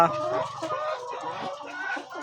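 Chickens at a layer farm cluck and call continuously, a dense flock close by, steady and fairly loud throughout with no talk.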